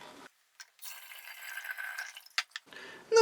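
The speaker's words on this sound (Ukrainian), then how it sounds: "Виливаю це туди, де вже в мене лимонний сік." Cooled homemade lemon wine must poured into a vessel already holding lemon juice: a steady watery pour with splashing and dripping, close and moderately loud, broken by brief clinks and pauses before a final trickle.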